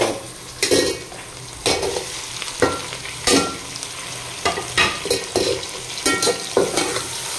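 Garlic ginger paste frying in a pan for a kofta gravy, with steady sizzling broken by repeated scrapes and clinks of a spoon stirring against the pan.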